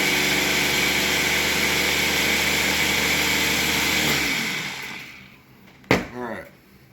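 A blender runs loudly, grinding fish into a smooth sauce, then winds down and stops, followed by a brief knock and settling sounds near the end.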